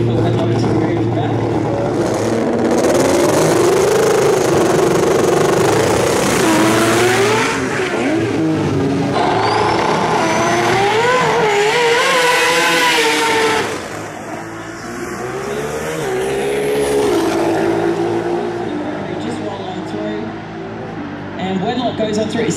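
A Mazda 6 race car makes a drag racing qualifying run at the FX Winters 2013 event, its engine roaring loud and close with rising revs and tire squeal throughout.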